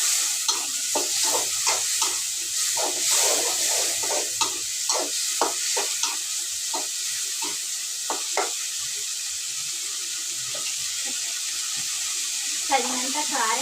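Ginger garlic paste frying in a pan in a home kitchen, stirred with a utensil: repeated scraping strokes over a steady hiss of oil, close and moderately loud, with no talking.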